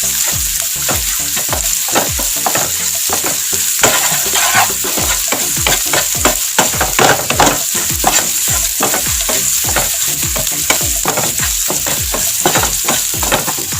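Onion and turmeric powder fry in a pan for fish curry under a strong constant sizzle, while a spatula scrapes through them in quick, regular strokes, close and loud.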